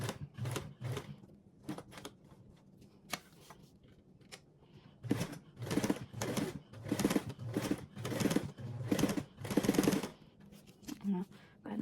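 A sewing machine stitches in quick rhythmic bursts with short pauses between runs, close by and fairly loud.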